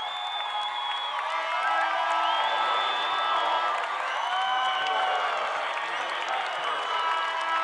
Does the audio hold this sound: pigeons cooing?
no